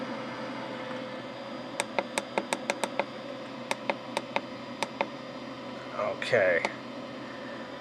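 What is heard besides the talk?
stepper motor and cooling fan in stage light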